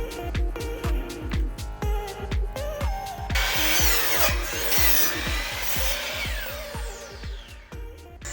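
Wooden braces being cut for a homemade aquarium stand, with a steady run of rhythmic strokes against the timber and a denser, louder rasping stretch in the middle, close by with no talk.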